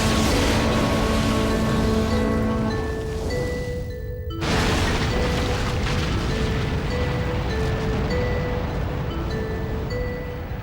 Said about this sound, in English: allowed any Galbadian soldiers or engineers that may have been using the toilet at the time a chance to escape before the missile base exploded